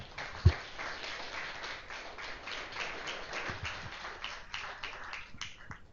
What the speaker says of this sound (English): Can we do a quick round of applause